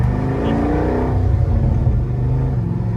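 A 1961 Corvette resto-mod with an LS3 V8 drives under load. The engine drones loud and close, and a deep rumble rises and swells as it revs.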